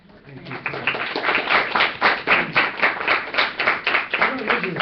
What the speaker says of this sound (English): I don't usually clap at open forum